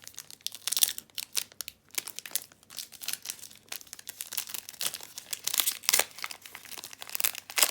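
Pokémon card booster pack wrapper from a Celebrations Elite Trainer Box being torn and crinkled open, a close, loud run of crackling foil rustles and sharp tearing bursts in irregular rhythm, with no talking.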